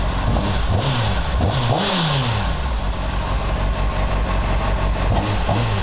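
Honda CBR 600RR sportbike engine, 2003-2006 model, idling with a rumbling low tone and several rising-and-falling throttle blips, close and loud throughout with no talk.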